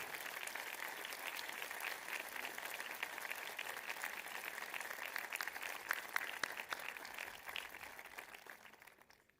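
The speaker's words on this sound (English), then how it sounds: "Please join me in a round of applause for our dedicated members of our faculty" Faint, distant applause fills a high school graduation ceremony hall as the faculty are honored, sustained clapping that thins out and fades near the end.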